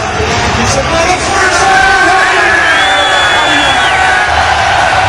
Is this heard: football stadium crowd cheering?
yes